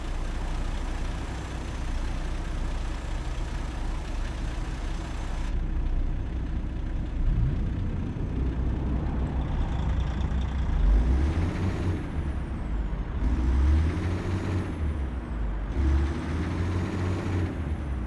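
A Peterbilt-style FLX 359 truck in American Truck Simulator, pulling a Pizzster Commander trailer, rumbles with a steady low diesel drone, then several loud hissing air brake releases and engine swells in its second half.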